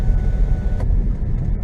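A BMW X2 (F39) drives on a rough gravel road, heard from inside as a steady low rumble of tires and suspension with a brief rattle partway through, no talking.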